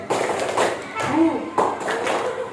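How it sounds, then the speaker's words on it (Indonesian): A group of children in an elementary school classroom clap together in a quick patterned rhythm, bright hand slaps close by with voices mixed in. "kita akan tepuk keren"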